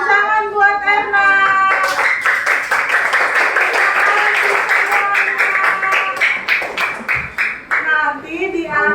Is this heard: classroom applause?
yes